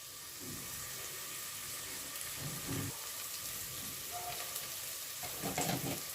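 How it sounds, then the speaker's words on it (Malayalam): Tomatoes fry in a pan for chicken biryani, a steady low sizzle running throughout with a few soft stirring scrapes and clinks, fairly quiet and with no talking. "ഇതിൽ കടന്ന് തക്കാളിയും കൂടി ടൊമാറ്റോയും കൂടി ഒന്നായിട്ട് ഫ്രൈ ആവട്ടെ"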